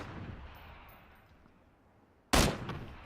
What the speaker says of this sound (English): 2 shots from an M16.